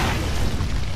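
A heavy explosion as the command center is destroyed in Gears of War 3 Horde mode, a dense, loud, continuous boom with rumbling that fills the whole second.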